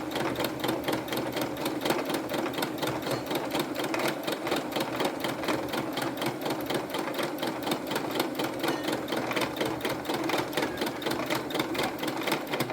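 A sewing machine stitching fabric for a tote bag, a fast, steady mechanical whirr with tightly packed rhythmic needle ticks running unbroken and close throughout.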